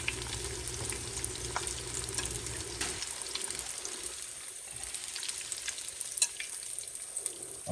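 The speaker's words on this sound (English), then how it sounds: "they're gonna fry for like 2 to 3 minutes" Deviled eggs frying in hot oil, a steady soft crackle and hiss running throughout with a few small pops, fairly quiet and even, no voices.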